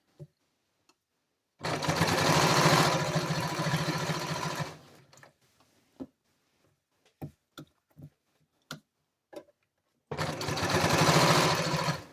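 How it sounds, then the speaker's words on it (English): A sewing machine stitching a sweatshirt neckband runs in two loud, steady bursts of rapid mechanical whirring, separated by quiet gaps with scattered clicks and handling taps. "Back stitch right there because I had to redo my needles."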